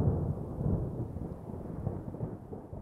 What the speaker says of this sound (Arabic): الجو في لحظة يتغير في الباحة، مثل ما شايفين برق ورعد